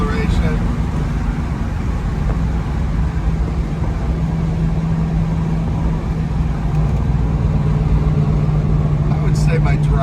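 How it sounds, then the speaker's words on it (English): A car accelerates in fourth gear on a bumpy road, giving a steady, fairly loud engine drone mixed with road and cabin noise heard from inside, while someone talks over it. "Fourth gear acceleration."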